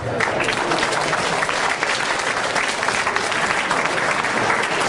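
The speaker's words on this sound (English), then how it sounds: "Big round of applause, please, for the no-nonsense man, Mr. Marc Rudov." Dense, steady audience applause fills the whole stretch for a guest speaker at a live talk, even and continuous from start to finish with no voices on top.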